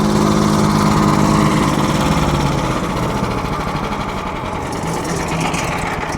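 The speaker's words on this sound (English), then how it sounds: "Now let it run for a couple of minutes just on idle" A Hyundai HYCH1500E-2 petrol wood chipper engine idles on its own, a steady close buzzing drone with a fast even pulse that stays loud throughout and eases only slightly partway through.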